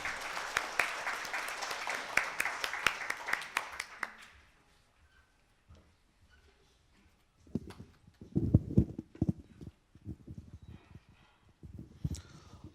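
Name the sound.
audience applause at a meetup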